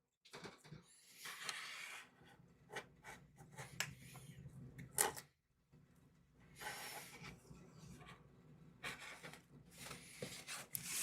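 Quilt fabric for a diamond pendant quilt being trimmed, heard as quiet, intermittent rasping and rubbing strokes close by, in short bursts separated by brief pauses.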